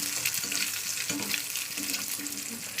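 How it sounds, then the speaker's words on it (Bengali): An egg frying in a pan gives a steady bright sizzle and crackle throughout, with faint soft knocks or scrapes recurring underneath. "ডিম ভাজা করছে, এখন কি করবো।"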